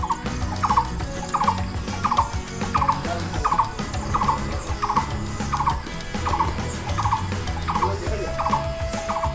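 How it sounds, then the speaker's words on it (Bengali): Birds call outside a resort cottage veranda in Sreemangal, a single repeated note sounding at an even pace of roughly two calls per second, clear and moderately near over a low background murmur. "এখানে বসে এই যে আমি পাখির ডাক শুনছি"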